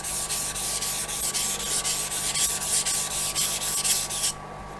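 A straight razor makes rhythmic light half strokes across a Japanese natural honing stone, a close repeated scraping hiss of about a dozen even passes with no talking.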